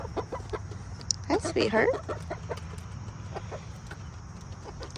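Backyard chickens cluck softly and intermittently close by, with a brief louder burst of clucking near the middle, while a person speaks a short greeting over a steady low background hum.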